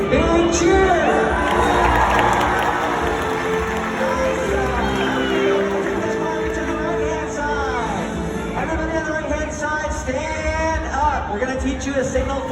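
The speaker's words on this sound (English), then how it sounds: "when Trua does his jump, let's give him a great big cheer" Audience at an orca show at SeaWorld Orlando cheering loudly for a jump, a sustained roar of whoops, shouts and children's voices that swells and then gradually eases.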